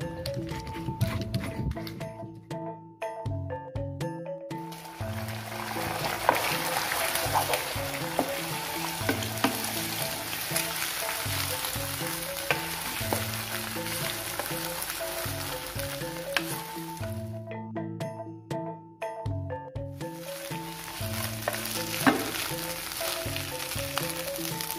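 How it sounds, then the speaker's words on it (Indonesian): Ground spice paste for a long bean stir-fry sizzling steadily in hot oil, with stirring and scraping in the pan and two brief pauses, close and fairly quiet. "Lalu saya tumis bumbu halus untuk kacang panjangnya"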